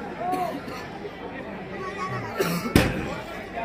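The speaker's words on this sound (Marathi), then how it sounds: "इथं बघा फटाक्यांच्या आतिषबाजी होते" Fireworks crackle at a chariot procession during the Jalicha Dev yatra festival on Dandi Paurnima, with two sharp, loud bangs close together near the end, set against continuous crowd chatter.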